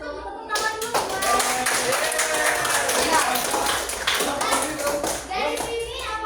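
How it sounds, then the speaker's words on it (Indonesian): Students in a classroom clap together in quick, crisp bursts, close and lively, while children's voices and a teacher speak over the clapping. "Tepuk tangan dulu."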